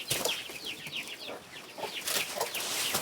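Chickens cluck in a village yard, a series of soft, fairly distant clucks and short calls that come in small clusters over a quiet outdoor background.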